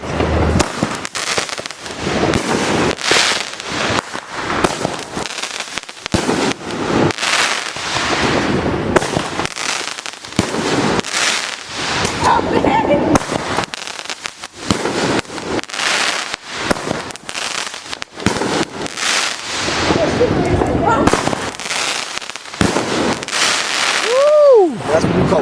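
Fireworks and firecrackers bursting nonstop at a 4th of July gathering, a loud dense stream of cracks and pops with whistling rockets near the end and voices shouting underneath.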